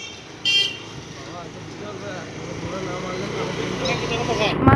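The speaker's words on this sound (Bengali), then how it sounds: "বাবা কি হর্ন!" At a busy fair, a vehicle horn gives one short, sharp honk near the start. Traffic rumbles and the murmur of a crowd continue underneath, and voices talk throughout.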